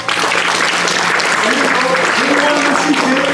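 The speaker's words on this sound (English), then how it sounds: "let's give God a hand clap of praise" A church congregation gives a hand clap of praise: dense, loud, sustained applause from a crowd, with voices calling out over the clapping.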